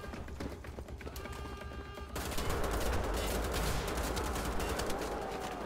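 Assault rifle gunfire in the shooter game Wolfenstein: The Old Blood, a sudden sustained burst of rapid shots that starts after two seconds of quieter game sound and continues loud to the end.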